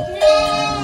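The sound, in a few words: sheep and lambs bleating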